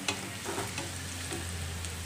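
Cumin seeds roasting in hot oil over a medium flame, giving a steady close sizzle and crackle with a low hum beneath and a few soft stirring scrapes, no voices.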